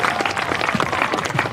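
Applause and cheering from the crowd at a Cape Cod League baseball game between the Wareham Gatemen and Hyannis Harbor Hawks, a steady wash of clapping.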